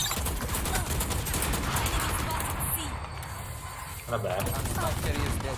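Swarm grenades and gunfire in the shooter game Valorant, heard as a dense, continuous rattle of rapid shots and bursts at close range, with voices talking over the action.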